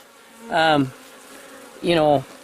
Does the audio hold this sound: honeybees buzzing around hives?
yes